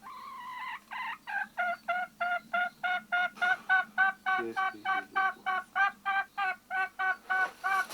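A hen clucks in a fast, steady series of short repeated calls, close and clear, with no voices.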